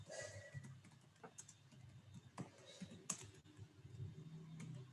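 Someone types on a computer keyboard: soft, irregular clicks and taps, with a few sharper keystrokes standing out, faint against a quiet room.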